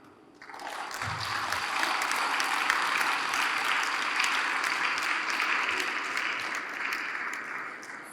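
At a formal reception honouring an ambassador, a large audience breaks into sustained applause, a steady wash of many hands clapping that rises quickly and holds evenly throughout, with no talking over it.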